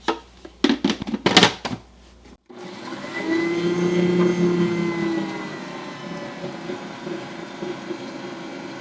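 An electric mixer blends dry ingredients for Amish ranger cookies. A few short clattering bursts come first, then a steady motor whir that rises and settles as it keeps running.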